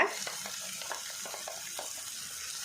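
Tomato masala sizzling and frying in a pan for egg green masala while a spoon stirs it, with soft scraping strokes and a continuous hiss at moderate volume close to the pan.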